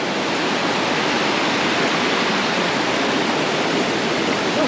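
Anayadikuthu waterfall near Thodupuzha, Kerala, roars with a dense, continuous rush of falling water, loud and close, with no voices over it.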